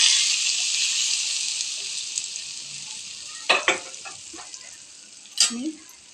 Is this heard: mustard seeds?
yes